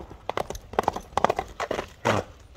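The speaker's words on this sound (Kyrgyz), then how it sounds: "Аттын чуркашы кандай экен өзүңүздөр бир байкап," A horse runs at an outdoor horse event in Nookat, its hooves clip-clopping in quick irregular beats, moderately near, with a brief voice in the background.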